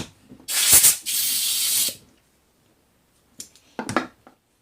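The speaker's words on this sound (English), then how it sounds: "just sprayed some cleaner in my face" Aerosol carburetor cleaner sprays in two long hissing bursts, near and loud, during work on a Yamaha Kodiak carburetor, followed by a pause and some brief handling clicks and rustles.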